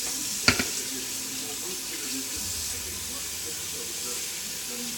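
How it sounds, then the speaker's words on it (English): Tap water runs steadily into a kitchen sink while raw chicken is rinsed under it, a continuous hissing splash after a brief knock near the start. "So I'm just rinsing this chicken to get what sodium out that I can."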